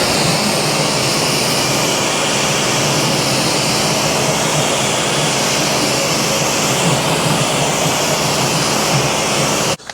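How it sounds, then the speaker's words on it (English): A pressure washer spraying down a car being prepared for sale, a loud continuous roaring hiss of high-pressure water that holds steady from start to finish with no talking. "next, what I'm going to do is I'm going to pressure wash it down"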